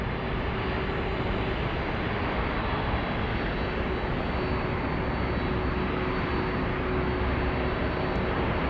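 A UPS cargo plane from Osaka taxis at an airport, its jet engines giving a constant, loud, broadband roar with a faint steady whine and no break throughout.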